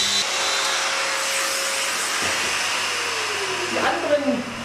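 A Festool DOMINO joiner runs with a steady, loud motor whine while it plunges and cuts a long mortise into wood, with a brief dip midway and a rising cutting surge near the end.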